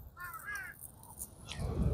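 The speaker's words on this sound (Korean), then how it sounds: "고기 냄새 맡고 주변에 까마귀들 다 왔다 다 왔어." Crows caw a few times, short harsh calls near an outdoor charcoal grill on a windy day, with wind rumble and grill noise rising toward the end.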